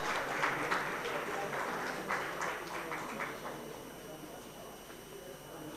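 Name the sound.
audience applause at a telecommunications conference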